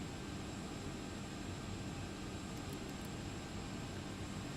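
A FedEx Boeing 757 taking off in X-Plane 11 gives a steady, loud broadband jet engine roar that holds unchanged throughout, with no talk over it.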